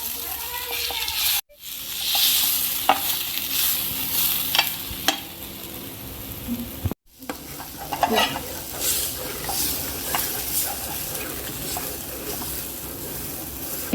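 Chalta fruit frying in a spoonful of ghee in a pan, giving a continuous bright sizzle with stirring scrapes and occasional spatula knocks, close and fairly loud, with two brief dropouts.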